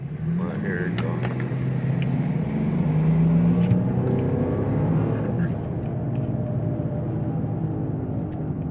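Infiniti G35 with a bad driver-side wheel bearing, recorded from inside while driving: a steady loud low hum and drone runs throughout, with road noise and some voice underneath.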